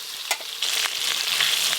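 Shrimp and small fish rubbed with salt and turmeric fry in hot oil, giving a close, steady sizzle with crackling spikes and no talk.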